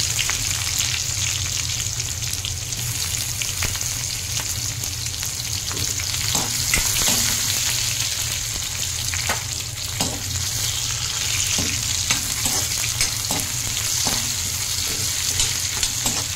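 Garlic and onion fry in a pan over a lowered gas flame, a loud continuous sizzle with popping splatters scattered throughout, close and steady with no voices.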